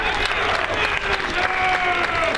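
A baseball crowd claps and cheers steadily for the pitcher during a HarbourCats game, a dense, continuous wash of applause with voices mixed in, while an announcer talks over it.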